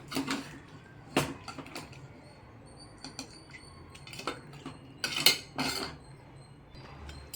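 Quail thokku masala being stirred in a pot, giving scattered metallic scrapes and clinks of a spoon against the vessel, with a few sharper knocks standing out over a quiet kitchen background.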